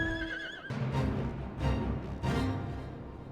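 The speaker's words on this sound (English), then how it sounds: "Oh, horsey." A horse neighs in the Final Fantasy XIV game, a few loud whinny bursts rising over steady game ambience, close and clear with no talking.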